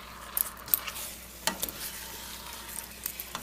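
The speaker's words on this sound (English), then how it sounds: "I'm going to stir this pork into that caramelized sugar" Marinated pork belly sizzling and frying in caramelized sugar while being stirred, with a steady low sizzle broken by scattered scraping and clacking stir sounds.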